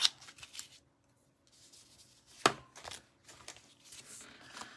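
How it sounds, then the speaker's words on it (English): A small piece of material being snipped off with scissors, giving a couple of brief crisp cuts and light handling rustles, close up and quiet with no talking. "we're just going to take a little piece that's big enough for what we're using and just cut a little piece off"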